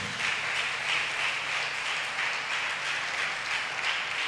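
A church congregation claps together in steady, dense applause, a continuous crowd of hands filling the room at an even level throughout.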